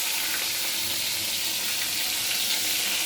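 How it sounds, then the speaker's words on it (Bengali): Bhola fish sizzling as it fries in oil in a kadai, a loud, steady hiss of bubbling oil that runs without a break. "ভোলা মাছগুলোকে ভেজে নেব প্রথমে"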